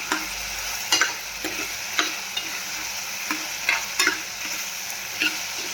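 A spatula scrapes through eggplant sabzi in a hot pan, each stroke a sharp, regular scrape over a constant close frying sizzle, repeating roughly every second.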